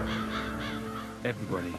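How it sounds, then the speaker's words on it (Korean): Crows caw as they fly up from a wheat field in an animated film about Van Gogh, several hoarse calls in a short irregular series over a soft background. "밀밭에서는 까마귀가 날아오릅니다"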